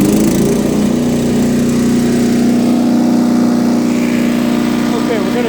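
A DR 208cc 9.5 chipper shredder engine runs loud and steady at a constant droning pitch, close by and continuous throughout, with a voice faintly under the noise.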